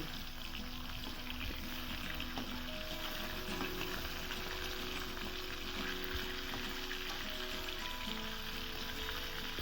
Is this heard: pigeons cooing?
no